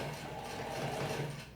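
A sewing machine stitching a collar onto a t-shirt, a quiet, steady mechanical whirr with a fast rhythmic needle pulse, running briefly and slowing slightly at the end.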